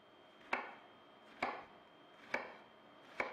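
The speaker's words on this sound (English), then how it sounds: "So I'm just going to cut a couple slices in here." Four evenly spaced knife strokes go through a red onion onto a cutting board. Each makes a crisp thump with a short ringing decay, heard close and alone with no voices.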